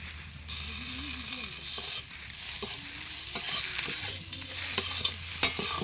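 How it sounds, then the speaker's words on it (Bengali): Ginger paste fries and sizzles in a pan while a utensil stirs it, with soft scraping strokes and a few sharper clinks over a steady hiss. "দিয়ে একটু নাড়বো ভালো করে,"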